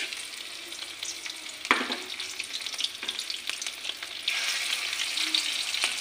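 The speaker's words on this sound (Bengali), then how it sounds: "ওটা এখন কড়া করে ভাজা করে নেব।" Small rohu fish fry in hot oil in a pan, a continuous close sizzle and crackle with a sharp clatter early on and the frying swelling louder near the end.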